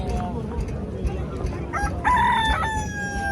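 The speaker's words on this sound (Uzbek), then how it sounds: "mana Quva Parranda bozoridamiz" Roosters crow in long drawn-out calls amid clucking and general farmyard bustle, with faint voices murmuring in the background.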